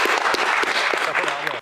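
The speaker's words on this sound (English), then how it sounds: "So can we give a round of applause for" Applause at a political meeting greets a former trade union researcher and advisor, a burst of fairly loud clapping that carries steadily before cutting off abruptly near the end.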